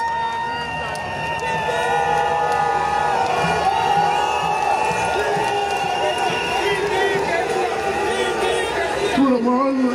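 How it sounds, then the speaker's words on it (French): A large crowd at an outdoor political rally in Yopougon cheers and shouts together in a loud, sustained roar with whoops and chanting voices that swell and fall. "Il faut applaudir pour lui."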